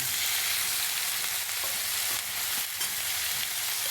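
Bottle gourd and potatoes fry in a pan with a steady, dense sizzle that stays loud and close throughout, broken by a few faint stirring scrapes.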